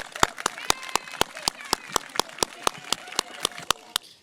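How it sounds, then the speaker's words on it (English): Evenly spaced sharp claps ring out in a steady rhythm at a school honor roll ceremony, loud and close, with faint voices murmuring beneath. "We're going to give everybody a round of applause"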